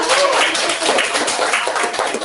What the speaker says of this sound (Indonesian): Oke, tepuk tangan juga.